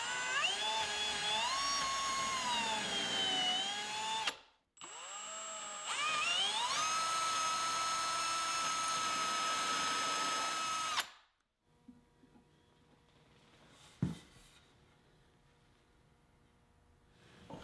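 A power drill whines at high speed in two sustained bursts, pre-drilling and countersinking pilot holes in cabinet wood, each winding up and then cutting off, followed by quiet with a faint knock.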